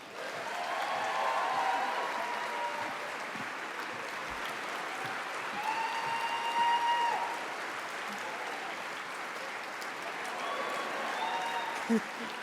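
Audience at the PaleyFest LA 2011 Parks and Recreation panel applauding for Aubrey Plaza, a continuous crowd clap with cheers and voices mixed in, steady throughout.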